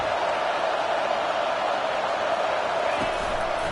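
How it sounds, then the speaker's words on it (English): A college football stadium crowd roars in a steady, distant wall of noise as fans rally behind the defense on third down, with faint whoops rising out of the din. "Decibels rising as the crowd gets behind this defense on 3rd down"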